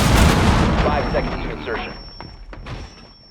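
Gunfire from the tactical shooter game Rainbow Six Siege, loud thumping shots and booms at the start that fade into sparser, quieter reports, with voice chat talking over them.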